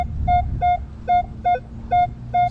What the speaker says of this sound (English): Some low tones, some high tones.